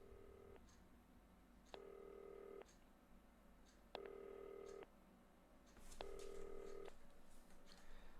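An old telephone in the video game Not For Broadcast rings loudly in four evenly spaced electronic bursts, each about a second long, with short quiet gaps between them.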